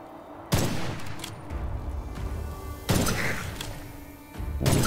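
Explosions in the dark-fantasy shooter Witchfire, two sharp loud blasts a couple of seconds apart followed by rumbling debris, then a third burst starting near the end.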